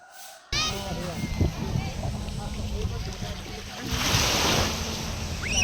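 Waves wash steadily onto a beach in Bataan, Philippines, swelling louder toward the end, with wind buffeting the microphone and people chatting nearby.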